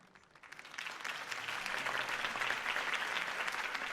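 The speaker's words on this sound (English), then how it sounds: "could have heard that applause" Crowd applause from a Batman video game's political rally scene, swelling in after a quiet start into steady, dense clapping that fills the rest of the stretch without speech over it.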